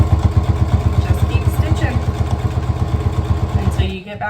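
A home sewing machine stitches a fabric mask with a steady, rapid rhythmic motor chatter that runs continuously and then stops abruptly near the end.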